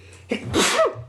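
A single sharp sneeze, close and loud, with a quick intake of breath before the burst.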